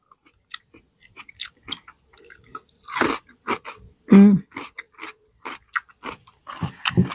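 Someone bites and chews a crunchy, spicy-sweet cinnamon cucumber pickle made from freshly harvested cucumber, with a string of sharp crisp crunches and softer chewing and mouth sounds, close to the mic and with no talking.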